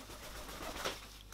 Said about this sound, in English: everyone's favourite bird